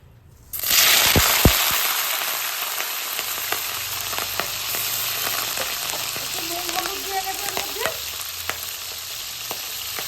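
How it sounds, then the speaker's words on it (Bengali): Prawns with turmeric and salt hit hot oil with a sudden loud burst of sizzling that settles into a steady crackling fry, dotted with pops and a few spatula scrapes, close up and continuous. "এবার আমি এই চিংড়ি মাছটা 1 মিনিটের মতো ভাজবো"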